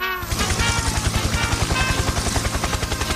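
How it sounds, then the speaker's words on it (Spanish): A real helicopter passes overhead, its rotor thumping in a fast, loud, steady pulse over a broad engine roar, close and unbroken for the whole stretch. "ese es un helicóptero real. Mira, ahí está pasando."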